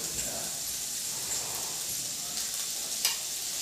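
Noodles dropped into a hot pan sizzle with a soft, steady hiss and light stirring scrapes, fairly quiet and close, ending in a brief sharper clatter.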